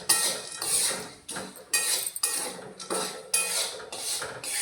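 Chickpeas roasting in hot sand in a pan, stirred in rhythmic bursts of gritty scraping and rattling, each pass loud and close, separated by short pauses.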